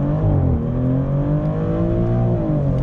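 A 2026 Maserati GranTurismo Trofeo launching at full throttle under launch control, its engine loud and close, rising steadily through the revs with a quick shift dip and another climb.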